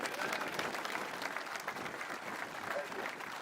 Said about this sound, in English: Let's just have a round of applause for our volunteers.